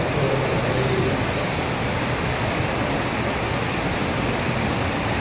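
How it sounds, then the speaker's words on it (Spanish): The Cali river in Cali, Colombia, rushing steadily during a thunderstorm, a loud, continuous broadband roar of turbulent water with wind buffeting, no voices. "Y este es el río Cali, río tutelar de la ciudad capital del departamento del Valle del Cauca."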